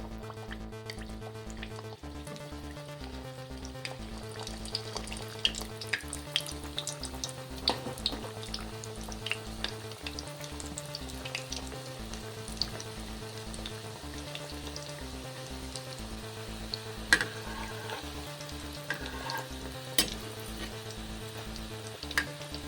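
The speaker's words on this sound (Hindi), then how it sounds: "अब हम इन्हें तब तक फ्राई करेंगे जब तक ये क्रिस्पी ना हो जाए।" Samosas deep fry in hot oil in a kadhai, giving a steady, moderate sizzle with scattered pops and crackles under a continuous humming drone throughout.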